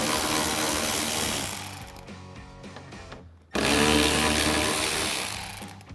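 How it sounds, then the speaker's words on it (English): A power ratchet with a 10mm socket spins out factory mounting screws on a 2014-2021 Toyota Tundra, giving a loud mechanical whir that winds down, pauses briefly, then whirs again. "we can remove our 2 factory mounting screws here. Again, using our 10 mil socket and our ratchet."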